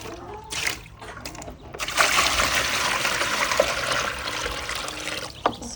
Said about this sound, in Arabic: ادي الميه، اهم حاجه تكون العلبه نظيفه.